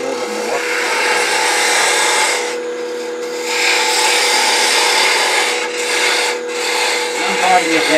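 A lathe tool parting into spinning turned wood on an Easter bunny project gives a continuous rough scraping hiss over a steady motor hum, dipping briefly a few times as the cut eases off and resumes.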